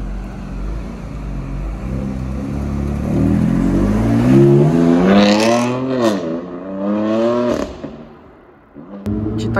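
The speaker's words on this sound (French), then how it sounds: "Petit démarrage du M4 Cab." A BMW M4 convertible starts up on a Paris street during supercar spotting: the engine catches with a rising flare that swells into a loud, close rev, dips, then blips again before settling.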